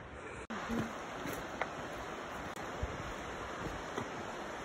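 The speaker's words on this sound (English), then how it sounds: "A lot of water coming over that rock, but very beautiful." Steady, dense roar of water pouring over rock at Abrams Falls, a continuous broadband rush heard from nearby with a few faint knocks on top.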